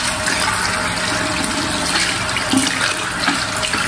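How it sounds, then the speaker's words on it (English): A tap runs steadily and loudly into a sink while a container is washed out, giving a constant splashing rush close by with slight variations in the flow. "I'm gonna wash out the container now."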